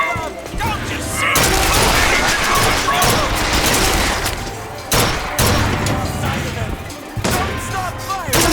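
Sustained gunfire in Bioshock Infinite, a dense fusillade of shots and thuds that runs almost the whole time with brief lulls, loud and close, with game voices shouting over the battle.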